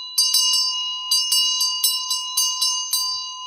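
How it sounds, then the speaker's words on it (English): A small hand bell used in a Buddhist music offering rings rapidly and brightly, about a dozen quick metallic strikes in steady rhythm, close and loud, with a sustained shimmering tone and no speech. "And then if we have a bell,"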